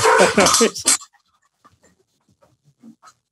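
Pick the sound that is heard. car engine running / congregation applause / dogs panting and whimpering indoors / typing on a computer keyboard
dogs panting and whimpering indoors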